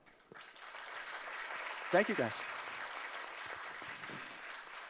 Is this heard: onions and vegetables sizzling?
no